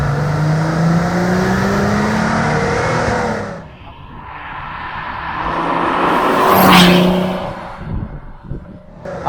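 Venturi 221 Cup sports car engine revving hard above 3000 rpm, a loud sustained roar that dips briefly and then rises again, heard close with no talking.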